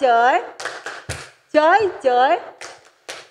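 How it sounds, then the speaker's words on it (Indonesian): Children run through a rhythmic clapping routine at a church children's class, crisp claps landing in a patterned beat between chanted, sung-out voices. "Kita akan tepuk sukacita. Tepuk sukacita."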